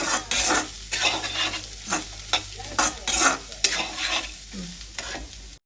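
Carrots fry in hot oil while being stirred, producing a constant sizzle broken by repeated rhythmic scraping strokes of the spoon against the pan, close and fairly loud.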